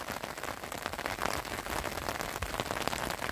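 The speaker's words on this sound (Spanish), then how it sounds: "Esa lluvia nos ha hecho esperar." Steady rain falls outdoors in the countryside along the Camino del Norte between Santander and Caborredondo, a dense even patter of drops striking surfaces nearby with no voices.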